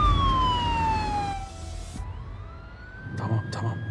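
An ambulance siren wails with a long falling then rising tone, fairly loud and close, with traffic noise and a brief voice underneath.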